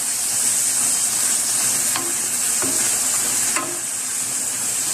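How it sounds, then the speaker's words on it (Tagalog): Hyacinth beans (bataw) sautéing in a pan: a steady, loud sizzle and hiss of frying, with occasional scraping stirs and small clatters, and no one speaking. "Ayan, igigisa po natin siya."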